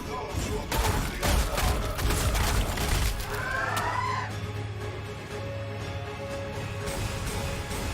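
Rapid bursts of Terminator storm bolter fire in Warhammer 40,000 Sanctus Reach, dense crackling volleys in the first three seconds under a busy game mix, then a steadier hum with lighter battle noise.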